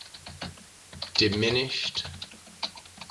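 Typing on a computer keyboard, rapid clicky keystrokes in irregular bursts heard up close, with someone speaking briefly over the middle of the typing.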